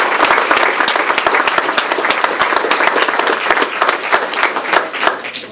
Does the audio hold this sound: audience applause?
yes